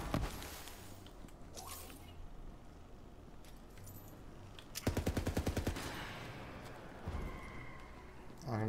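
Rapid gunfire from a favourite gun in Borderlands 3, a sharp rattling automatic burst in the middle and a shorter one later, amid jangling metallic clicks, with a player talking.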